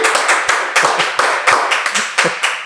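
Hand clapping in a studio for a talk-show guest, a few people clapping in sharp, fairly regular close claps, roughly four or five per second, loud and distinct with no voices over them.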